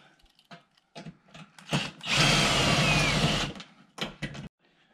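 A power screw gun backs screws out of a Stage 3 spoiler on a C7 Corvette. A loud whirring burst lasts about a second and a half, set between scattered handling clicks and clunks.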